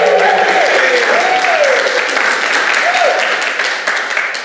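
A live audience at a podcast event held during Keto Fest claps in sustained applause that tapers off toward the end, with a voice briefly rising above the clapping.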